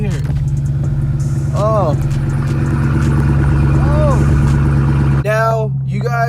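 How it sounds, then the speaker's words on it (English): A Chevrolet Camaro's engine cold-starts and settles into a loud, steady idle rumble, with a brief cut and a renewed surge near the end while someone speaks over it. "you want to press the brake and you want to start the engine"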